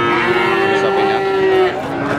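A calf or cow at a Javanese livestock market gives one long, loud, sustained moo, close by, with faint crowd noise underneath.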